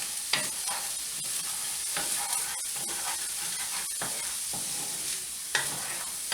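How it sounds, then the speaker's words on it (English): Vegetables fry in a hot oiled pan with a constant close sizzle and hiss, punctuated by scraping stirs and a few sharper clatters. "Again, you should hear that nice sizzle."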